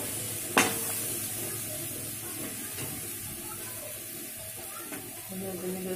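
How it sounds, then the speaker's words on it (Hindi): Aloo matar being stirred and mixed in a pan, a steady soft sizzle with scraping spoon strokes and one sharp clink near the start, with a voice speaking faintly at times. "इसको अच्छे से मिक्स करना है।"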